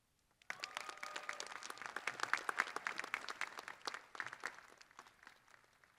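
A graduation audience at a winter commencement breaks into sustained applause, many hands clapping densely and evenly from start to finish at a moderate distance, with no voices standing out.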